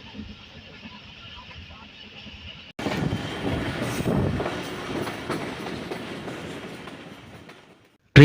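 Passenger train running between Karachi and Rohri after leaving Landhi station, a steady rumbling roll with rhythmic clatter of wheels on rails, heard from inside the carriage and fading out near the end.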